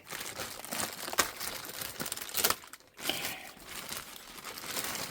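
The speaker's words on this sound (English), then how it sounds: "Now we're going to take the plastic bag off." Plastic bag being crinkled and peeled off a newly installed WattCycle 30A solar charge controller, with tape pulled loose; close, busy crackling and rustling with sharp crunches and a short pause midway.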